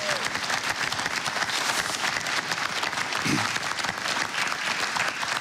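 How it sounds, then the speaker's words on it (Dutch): An audience at a municipal election debate in Peel en Maas breaks into sustained, loud clapping, a dense and even wash of hand claps continuing for several seconds. "Als u vergeet eventueel even een applaus te geven..."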